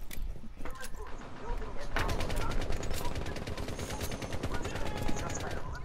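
Gunfire in the tactical shooter game Rainbow Six Siege, dense rapid automatic bursts with sharp cracks, continuous and fairly loud over several seconds, with voices talking over the shooting.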